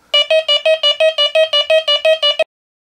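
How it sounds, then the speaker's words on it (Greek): A Quest X10 Pro metal detector's surface target alarm beeps loudly and rapidly, about a dozen evenly spaced tonal pulses in quick succession, triggered by an object very close to the coil, then stops abruptly into silence. "Όταν κάποιο αντικείμενο είναι πάρα πολύ κοντά στο δίσκο, ακούγεται αυτός ο συναγερμός επιφανειακού στόχου."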